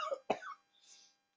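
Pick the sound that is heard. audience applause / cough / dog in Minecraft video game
cough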